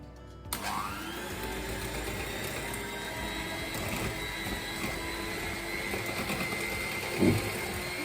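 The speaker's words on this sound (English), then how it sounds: "grab our electric mixer and we're gonna mix it, for probably 2 to 3 minutes, just until it's nice and smooth" Electric hand mixer beating birthday cake batter from scratch on low speed, a steady close motor whir that continues unbroken with a brief bump of contact near the end.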